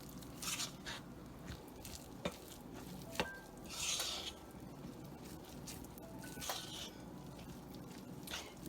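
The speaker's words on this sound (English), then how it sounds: "And we will use our whisk to smooth it out" A whisk stirs icing for a Southern Coca Cola cake in a bowl, giving soft scraping and repeated light taps of metal against the bowl, close and faint with small clinks throughout.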